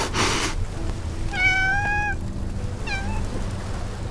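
A cat meows twice, a drawn-out rising-and-falling cry followed by a shorter one, heard fairly close over a steady background hum.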